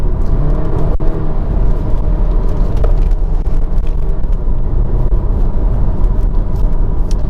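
A 2019 Audi Q3's engine hums loud and steady throughout, with a continuous roar and no voices over it.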